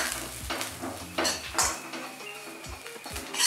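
Neem flowers frying in a little oil in a pan, a soft sizzle broken by a few scraping stirs and light clinks of a utensil against the pan.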